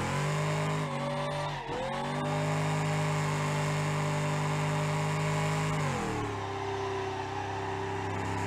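Burnout in a locked-differential truck in the BeamNG.drive racing game: steady droning engine with sustained loud tire squeal, a brief dip in pitch near two seconds, then the engine note drops and settles toward the end.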